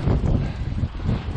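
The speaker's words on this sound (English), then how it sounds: "it is awful windy. It might be affecting my video" Strong outdoor wind buffets the microphone in steady, loud low rumbling gusts that swell and ease throughout, with no talk.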